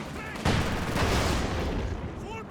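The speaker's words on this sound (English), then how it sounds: "we've got some mortar, double mortars from Flap" Mortar fire in Company of Heroes 2, double mortars launching in a 2v2 match: a sharp thump lands, then a second one, both trailing into a dense, rumbling wash of battle noise.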